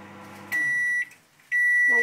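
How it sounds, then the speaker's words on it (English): A microwave oven heating water sounds two loud, clear electronic beeps separated by a short pause, over a faint low hum. "it takes a lot to boil water in a microwave"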